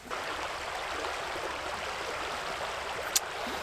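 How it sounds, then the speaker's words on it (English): The Malheur River runs beside a campsite in the Owyhee country, a steady broadband rush of flowing water that holds level throughout with no voices, broken only by one brief sharp click near the end. "we're also along this river. This is the Malheur River"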